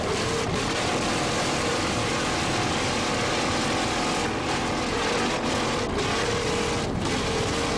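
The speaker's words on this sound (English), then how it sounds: "Listen to those engines right there." Offshore race boat engines roar at the 1986 Islamorada Budweiser 100 powerboat race in the Florida Keys, a loud, continuous, broadband drone that holds steady throughout.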